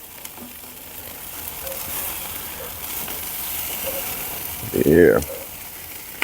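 Chicken thighs sizzle quietly on a charcoal grill fed with Kingsford briquettes, and a brief louder flare of sizzling and scraping comes as they are flipped, with a short spoken word nearby.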